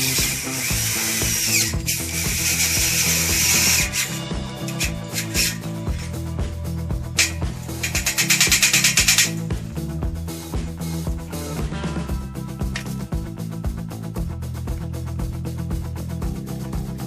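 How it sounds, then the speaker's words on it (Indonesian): Bolts being driven into a lightweight steel flower rack with a power drill, steady whirring bursts with harsher high-pitched surges, close and loud, no talk. "Untuk pemasangan bautnya, kita mulai dari bagian pinggir dulu."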